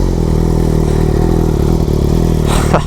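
Yamaha R6 sport motorcycle with its exhaust baffle removed, engine running at a steady loud rumble close by, with a brief rise in rev and rattle near the end.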